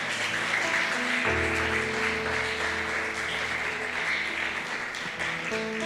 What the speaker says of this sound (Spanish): esta ofrenda de palmas para ti, Papá